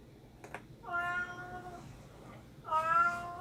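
A domestic cat that has just hunted a piece of paper gives two drawn-out, wavering meows close to the microphone, separated by a short pause, over a quiet room.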